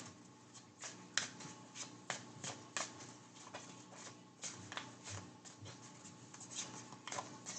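Twin Flame Journey oracle cards being shuffled close up, a run of crisp riffling flutters and soft snaps repeating irregularly for several seconds, quiet and alone with no talking.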